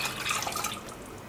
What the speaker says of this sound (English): Now I'll get 4 cups of cold water. Pour that straight in.